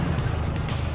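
A QJ Motor SRK 250RR motorcycle exhaust gives a loud, close, raspy rumble in a short, steady burst with a gritty, throbbing low end.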